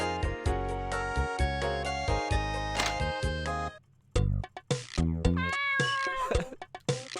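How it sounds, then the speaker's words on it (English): A game cat meows repeatedly in bright, tonal calls, close and loud. The meows carry on through a short gap and come back as several quick, varied cries. "Gee, I wonder whose cat that is."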